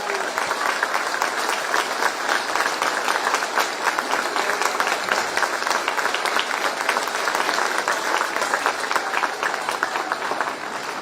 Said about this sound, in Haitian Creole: Donc une minute d'applaudissement.